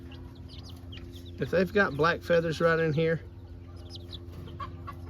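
Young chickens, including a black-feathered young stag, give a short burst of clucking and chirping calls close by, set against a low steady hum and someone speaking quietly.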